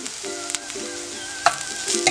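Garlic fries with onion in a pan, making a steady close sizzle with light clinks and stirring sounds.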